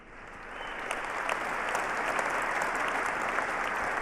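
Audience applause at a Liberation Day presidential address, a dense sustained clapping that swells in the first second and holds steady, fairly loud with no speech over it.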